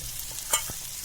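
Prawns fry on a flat tawa with a little oil, giving a soft continuous sizzle with a faint scrape or clink of stirring near the middle.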